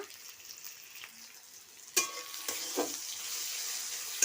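Bitter gourd slices fry in a pan with a steady close sizzle, broken by a few sharp scrapes and clatters as the pieces are stirred and turned, no voices.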